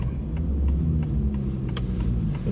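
A Volvo car's engine rumbles steadily at low pitch as it pulls away in first gear, a continuous close drone with no voices over it.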